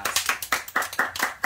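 A few people at home clapping their hands in a quick, uneven burst of about a dozen sharp claps, close and moderately loud, with no talking.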